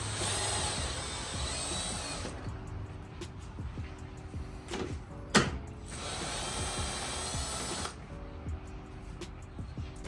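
Screws are backed out of the front grille of a third-generation Toyota Tacoma, with bursts of a whirring power driver separated by clicks, small knocks and quiet handling sounds, close by.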